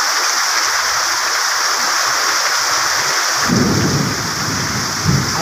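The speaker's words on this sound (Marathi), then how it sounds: "वादळ पाऊस सुटलाय, वादळ पाऊस." Heavy thunderstorm in rural Maharashtra, loud continuous downpour with a deep rumble of thunder swelling partway through, close and enveloping with no talk.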